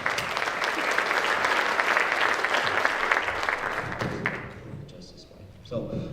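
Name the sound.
applause for scholarship presenters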